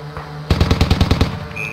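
A BM-21 rocket artillery launcher in the video game Squad fires a rapid salvo of about eight sharp, evenly spaced blasts after a brief quiet lead-in, loud and close.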